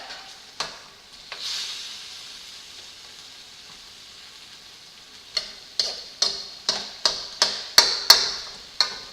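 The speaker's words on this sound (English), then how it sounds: "Same time that I'm browning this, I'm chopping it into smaller pieces." Ground meat browns in a pot for chili while a utensil chops it into smaller pieces: a soft sizzle underneath, a few isolated knocks early, then a run of sharp, evenly spaced chopping taps close by.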